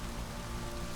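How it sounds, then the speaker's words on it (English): Steady rain falls in The Witcher 3 video game, a dense, even hiss of drops on surfaces during a thunderstorm, with no distinct thunderclap. "you're sitting here in the rain and thunder."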